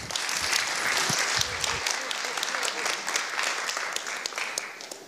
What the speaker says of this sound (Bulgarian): вашите аплодисменти за Леон